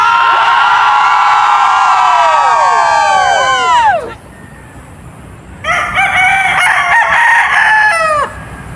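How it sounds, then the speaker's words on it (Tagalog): Backyard chickens with a rooster crowing: two long, loud, close cock-a-doodle-doo calls, the first stretching several seconds and the second following after a short quiet gap. "tanaw-tanaw yung mga alaga nating mga manok sa ating harapan"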